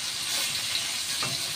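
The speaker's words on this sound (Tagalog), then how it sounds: "Lutuin natin ng kamatis na igi." Tomatoes cook for pinakbet in a pan, giving a steady, fairly quiet sizzle and hiss of frying that runs unbroken throughout, with no one talking.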